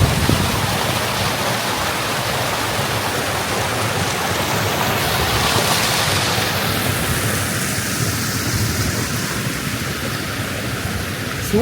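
The Aruvikkuzhi waterfall stream in Thekkady, a steady loud rush of flowing water filling the whole stretch without pause and without voices.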